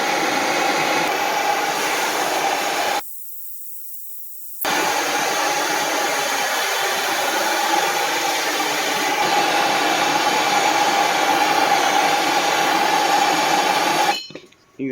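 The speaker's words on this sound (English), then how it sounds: "I just got a MAP gas torch here." A MAP gas torch heats a metal part during a Chevy LUV 4.3 Vortec V6 engine swap, roaring as a steady, loud broadband hiss that cuts out briefly, then resumes and stops near the end.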